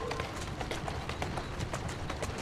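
A horse gallops in Assassin's Creed Syndicate, its rapid, even hoofbeats drumming close and loud throughout with no voices over them.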